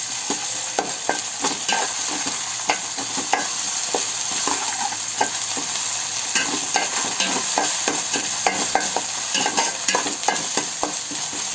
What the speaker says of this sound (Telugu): ఇంకొద్దిసేపు ఫ్రై కానివ్వండి.